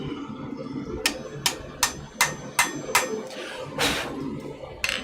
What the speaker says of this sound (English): Let's give a little tiny tappity tap tap.